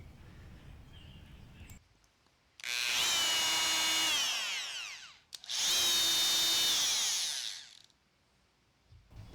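A Dremel Multi-Max oscillating multi-tool whirs loudly in two bursts of about three seconds each, with a high buzzing whine and a short pause between them.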